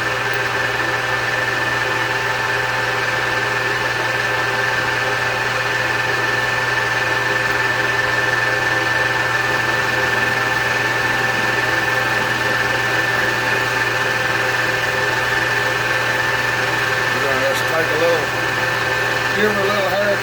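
Engine of a Case log splitter running steadily in high gear, a loud continuous droning hum that holds an even pitch throughout, with a voice speaking faintly over it.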